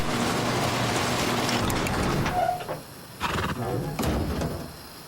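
Horse neighs in the Rust survival video game, heard mid-clip amid busy game ambience with water and boat-like noise, a brief whinny rising over continuous background sound.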